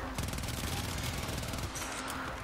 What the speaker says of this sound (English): Who would have thought dual wielding automatic like machine guns?